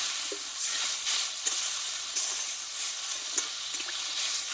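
Potatoes cooking in spices sizzle steadily in a pan as water is added, a soft continuous hiss broken by several light scraping stirs, close and even throughout.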